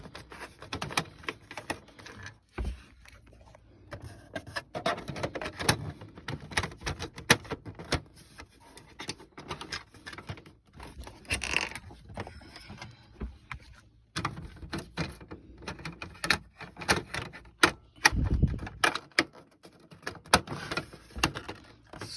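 An Epson ET15000 inkjet printer's plastic cover sliding back into place during maintenance, heard as a run of close, uneven clicks, knocks and scraping mechanical bumps.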